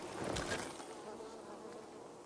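Bees buzzing in the video game Dying Light 2, a close droning hum that swells briefly and then holds steady and quieter for a couple of seconds.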